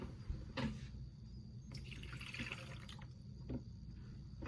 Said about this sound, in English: Okay, so I'm gonna add my water.